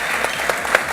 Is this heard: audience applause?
yes